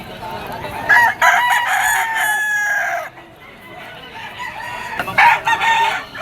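Yellow-legged gamefowl rooster of Sweater Gilmore bloodline at a pet market, crowing loudly nearby in one long crow, followed by a second crow partly heard, with faint background voices.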